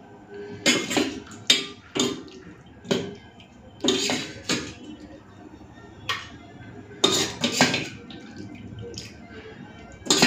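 Cauliflower and potato curry being spooned onto a plate of rice, with a string of close clinks and scrapes of spoon against dish separated by brief quiet gaps.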